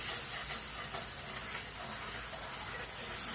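A pan of gravy being stirred as it sizzles and steams, with a steady, fairly quiet frying hiss that holds evenly throughout and faint scraping along the pan bottom.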